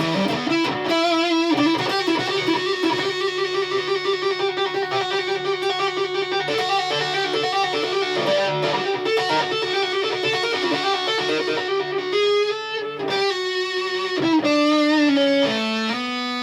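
Electric guitar through a neck humbucker pickup with a warm, thick tone playing sustained chords and melodic notes, moderately loud and continuous, with no voices.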